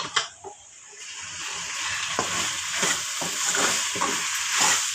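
A chickpea-lentil curry sizzles steadily in a hot pan while a spoon scrapes and stirs it in regular strokes, close and continuous, with no talk.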